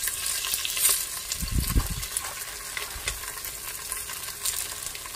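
Vegetables with green chillies, mint, tomato and peas fry in a pot while being stirred, a steady close sizzle broken by a few scraping, churning strokes of a spoon.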